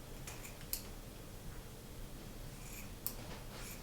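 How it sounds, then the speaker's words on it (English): Scissors snip through a ribbon bow at an angle, two faint quick cuts about two seconds apart against quiet room noise. "And cut the bow on an angle."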